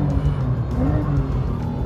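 A 2022 Porsche 911 GTS out on a racing circuit, its engine a loud, steady, close drone with a low rumbling hum that holds throughout, no voices heard.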